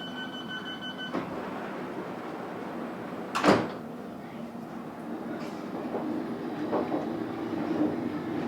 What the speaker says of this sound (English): This is a FAST Metropolitan line train to Aldgate.